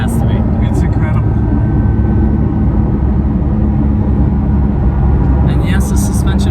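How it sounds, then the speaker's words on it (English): A Porsche 911 GT3's naturally aspirated flat-six drones as a loud, steady low rumble from inside the moving car, continuous throughout with a voice faintly over it. "Flat sixes are the most amazing thing in the world."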